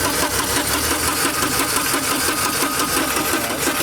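A Porsche 924 Carrera GT engine cranking steadily without catching, a loud, continuous rhythmic churning from close by with no pauses and no voices.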